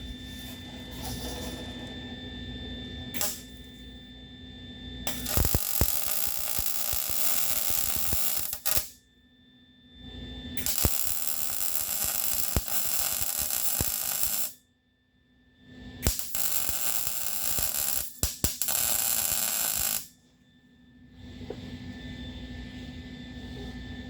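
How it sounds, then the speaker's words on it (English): Welding on a Geo car frame repair crackles loudly in three long runs with brief quiet gaps between them, under a steady background hum. "Alright, we're going to do a little welding."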